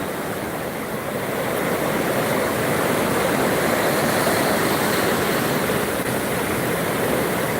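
Sea waves at Pantai Islami Putrang beach in Aceh, Indonesia, at high tide, a loud, continuous roar of surf that swells slightly and holds steady, with no voices.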